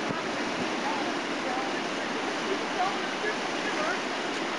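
Creek water flowing steadily as a continuous broadband rush, with light wind buffeting the microphone and no distinct breaks across the whole stretch.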